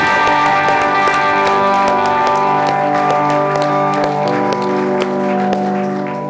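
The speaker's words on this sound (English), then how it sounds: "Would you give the Lord a big hand clap this morning?" A church congregation at a Sunday morning service in Baldivis claps along over loud sustained music, with the claps as sharp repeated hits throughout.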